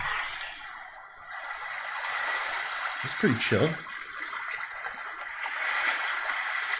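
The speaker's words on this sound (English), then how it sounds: "Let's just listen to the ocean." A recording of ocean surf plays as a steady, soft rush of waves, while someone speaks briefly over it midway.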